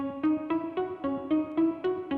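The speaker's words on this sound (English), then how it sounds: "so it's added in this sound from Serum" Synth sound made in Serum for a pop song bridge, playing a steady rhythmic pattern of repeated plucked chords about every quarter second, clear and alone with no voices.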